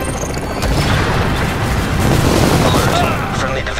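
Dense bursts of gunfire and booming impacts in The Division video game, rapid and loud throughout.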